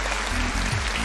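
An audience claps at a comedy show in Romania, a short dense burst of applause heard close and steady throughout.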